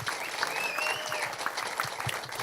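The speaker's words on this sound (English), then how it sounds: "So let's give a round of applause to Vicki as well." Supporters at a Pennsylvania House campaign announcement clap for Vicki, a moderate, continuous patter of applause with individual claps standing out.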